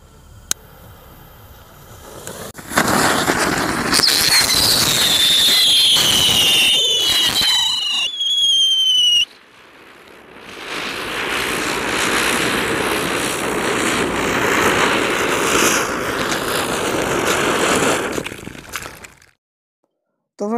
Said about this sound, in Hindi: सारे चक्कर एकदम से जल गए और इधर उधर भागने लगे और तेज़ तेज आवाज़ करने लगे, सीटियाँ बजने लगी